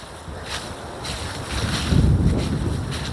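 Wind gusting outdoors in a graveyard with autumn leaves on the ground, a broad rushing buffet on the microphone that swells louder toward the end, with faint rustling and no talk.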